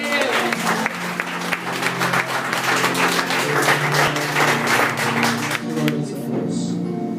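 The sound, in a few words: congregation applauding in church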